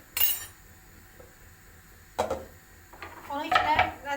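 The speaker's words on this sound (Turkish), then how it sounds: "Birazcık daha doğrayayım." A few sharp knife chops on a board, with clattering kitchen sounds in between, while preparing tripe soup; a quick flurry of cuts near the end.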